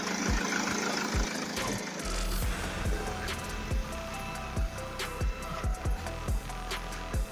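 A car engine idles after a MAP sensor repair, running with a low rumble and periodic knocking thumps in an uneven rhythm, heard close by outdoors.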